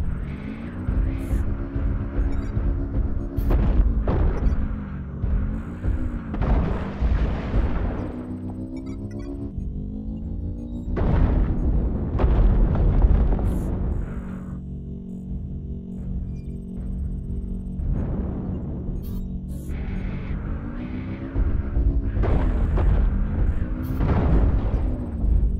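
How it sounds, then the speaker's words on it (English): Artillery strike explosions in a video game, heavy booms that come in several bursts over a long stretch, mixed with game sounds and voice-like announcements, loud and close. "Artillery strike online."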